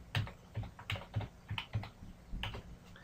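Keys tapped on a computer keyboard while entering a date into a spreadsheet, a quick run of about ten crisp, close clicks in an uneven rhythm, with no talking.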